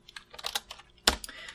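Fast typing on a computer keyboard, a burst of close, crisp key clicks in an uneven rhythm with one louder keystroke near the end, no voices.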